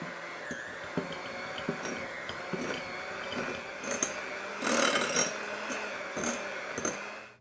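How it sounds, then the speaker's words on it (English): Electric hand mixer whirring through softened butter, a steady motor drone with beaters periodically knocking the bowl, close up and fairly quiet, with a brief louder burst midway. "And then I'm just going to take a mixer and blend this together."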